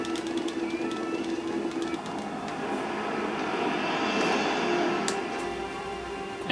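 Steady, loud drone of an airplane engine in the Resident Evil 6 video game during a plane crash sequence, a continuous roar with a low hum and a few sharp high glints, no talk.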